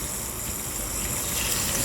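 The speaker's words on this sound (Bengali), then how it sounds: "খাঁটি সরিষার তেল দিয়ে মাছগুলো পর্যায়ক্রমে সুন্দর করে ভেজে নিব।" Stinging catfish fried in pure mustard oil, giving a steady, loud, hissing sizzle that holds evenly throughout with no talk.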